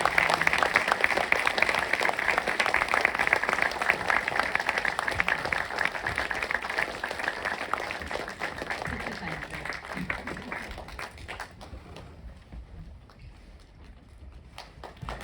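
An audience at an evening event of the Ukrainian Institute of London applauds warmly to welcome author Andrey Kurkov. The clapping is steady and full at first, then thins and fades toward the end.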